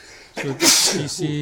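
A man sneezes once, loudly and up close, in the crowded hall of a toy fair, with other people talking nearby.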